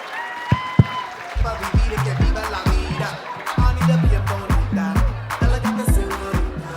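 Applause from an audience at a live stand-up comedy stage show, clapping blended with a rhythmic low thumping beat and a voice talking over it, moderately loud and steady throughout.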